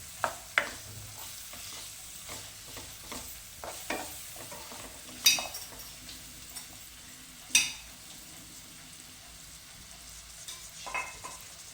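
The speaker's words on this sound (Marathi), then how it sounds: "ते कांदे घालून घेऊया. आणि कांदा चांगला मऊ होईपर्यंत परतून घेऊया." Chopped onions stirred in a hot pan for a dhaba-style whole masoor curry, a soft steady sizzle broken by occasional sharp scrapes and clinks of a spoon against the pan.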